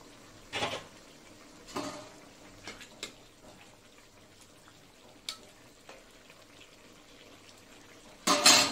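A pot of katla fish-head shukto curry bubbles and simmers steadily at low level, with a few louder clanks and stirring knocks scattered through and a sharper clatter near the end.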